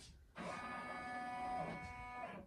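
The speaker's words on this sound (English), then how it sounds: "I want to make sure that when it does the basting stitch, it's not going to hit the end of my hoop" An embroidery machine stitching a basting outline on a hooped throw blanket, a sudden steady whirring hum with a tonal buzz that runs for about two seconds before trailing off, close by.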